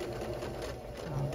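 Kenmore 385 Series sewing machine darning with an embroidery hoop, a continuous fast mechanical whir heard up close at a steady level.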